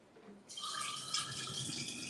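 Lemon mixture is poured into a vodka drink, a soft steady liquid trickle that starts abruptly and runs close and quiet to the end.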